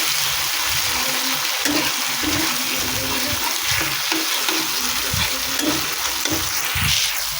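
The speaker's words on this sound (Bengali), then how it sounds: "এই মশলাটা এবারে আমি দিয়ে দিয়েছি তেলের মধ্যে, দিয়ে আমি হালকা করে নাড়াচাড়া করে নিচ্ছি।" Spice paste for a Bengali posto katla fish dish sizzles and crackles steadily in hot oil while a utensil stirs it, with soft scraping bursts recurring through a continuous frying hiss.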